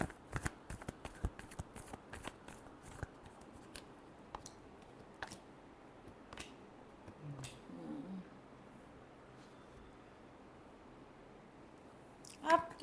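Tarot cards are shuffled by hand in a series of quick, crisp riffling snaps, faint and close, with brief pauses and a louder flurry at the end.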